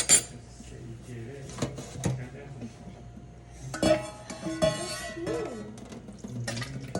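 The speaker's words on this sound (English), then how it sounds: "now we put it in this bowl" Boba pearls being put into a bowl bring close clinks and scrapes of a utensil against dishware, with several sharp taps and a brief ringing tone among quieter handling noise.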